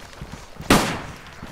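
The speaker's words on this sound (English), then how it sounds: "I heard gunshots." A single sharp video game gunshot cracks out at moderate loudness, followed by a brief decaying tail against a quiet background.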